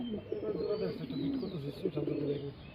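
Soft, repeated pigeon cooing at a pigeon farm, low rolling coos close by, with a voice speaking faintly underneath.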